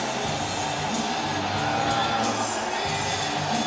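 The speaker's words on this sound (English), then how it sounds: "I've never heard a crowd this loud before." Wrestling arena crowd at CM Punk's AEW debut, a loud, continuous roar of cheering and chant-like shouting that never lets up across the few seconds.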